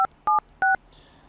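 iPhone keypad dialing tones while a phone number is entered: three short, crisp dual-tone beeps in quick succession, clean and close, followed by a faint trailing hiss.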